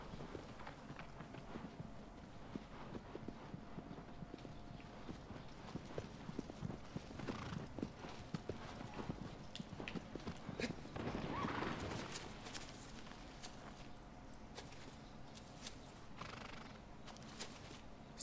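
Horse hooves clip-clop steadily on the ground in the video game Shadow of the Colossus, with an occasional whinny and faint background music, no talking.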